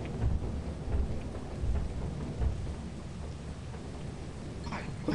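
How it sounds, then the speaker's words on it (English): Thunder and rain in the video game Lethal Company: low rumbling thunder rolls in several swells over a steady hiss of rainfall, moderately loud with no talking. "It seems like that thunder hits more now."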